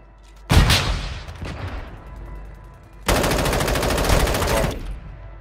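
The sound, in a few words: gunfire in Call of Duty Warzone video game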